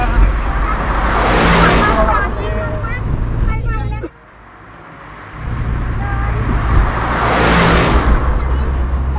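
A car drives along a winding ghat road on the way from Pune to Kalubai temple, its engine and road noise loud and steady, briefly dipping before returning, while people talk inside.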